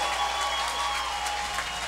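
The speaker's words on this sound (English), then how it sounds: "the crowd is going crazy for this one" Crowd at a USA versus Mexico NACRA rugby match cheering and applauding for Mexico, a broad, steady wash of claps and cheers throughout.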